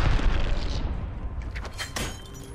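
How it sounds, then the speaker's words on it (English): A grenade blast in an Apex Legends match gives a heavy boom at the start that rumbles off, followed by scattered crackling impacts and faint gunfire. "Look out, grenade."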